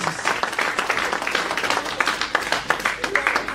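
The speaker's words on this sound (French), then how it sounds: "Est-ce qu'on peut donner une offrande des acclamations pour le roi de Dieu?" A church congregation applauds and claps continuously at a consecration service, a dense, fairly loud wash of many hands with voices mixed in.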